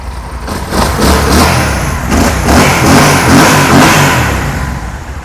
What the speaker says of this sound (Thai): เดี๋ยวฟังเสียงยนต์กันดูครับ